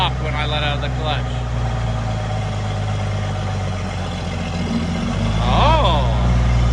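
A tractor engine idles with a steady low rumble, its pitch shifting and rising near the end as the clutch is let out, loud and close throughout while a voice speaks over it.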